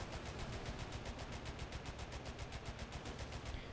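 British tank firing in War Thunder: a rapid, evenly spaced stream of automatic gunfire that continues steadily throughout, fairly faint and with no talk.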